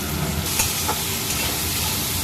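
Eggplant frying in oil in a pan, a steady loud sizzle and hiss close by with a few faint stirring scrapes.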